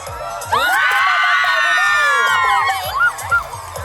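Schoolgirls cheering and shrieking together at a school sports day, a loud, bright burst of high-pitched whoops that swells, holds for a couple of seconds and then breaks into scattered shouts.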